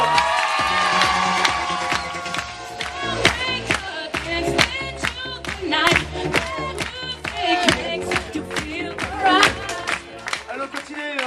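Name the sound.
audience applauding and cheering for Mr. Romano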